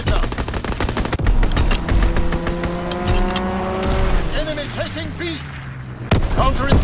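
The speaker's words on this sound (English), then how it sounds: "Fighter pilot inbound. Strafing the target." Fighter plane strafing run in Call of Duty: WWII, rapid loud gunfire bursts with an engine whine that swoops down in pitch as it passes, then more shots, with game voice callouts over it.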